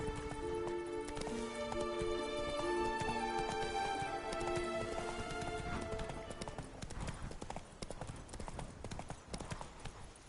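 Roach the horse in The Witcher 3 clip-clops along in a quick, steady rhythm of hooves, with a brief whinny-like tone early on over a faint background.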